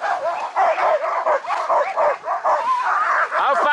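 A pack of sled or training dogs barks and yelps continuously, loud and close, an excited overlapping chorus with howl-like whines rising near the end.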